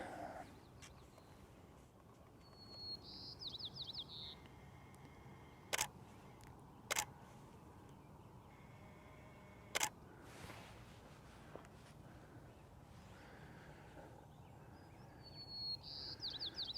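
Three sharp single-lens reflex camera shutter clicks, two close together and then one more a few seconds later, cut through a quiet outdoor sunrise with faint birds chirping in the background.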